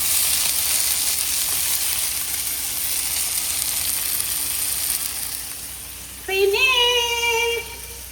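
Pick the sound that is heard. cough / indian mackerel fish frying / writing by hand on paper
indian mackerel fish frying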